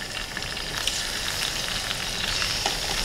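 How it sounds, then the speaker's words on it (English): Large Gulf shrimp fry in hot oil in a heated saucepan, giving a steady, dense sizzle with small crackling pops, close and continuous throughout, with no voices. "I'm going to add my large Gulf shrimp that I have here."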